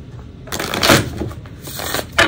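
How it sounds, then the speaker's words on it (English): Tarot cards being shuffled close by in a few quick riffling bursts, with brief pauses between them and no talking. "And again, I don't need to shuffle all that well,"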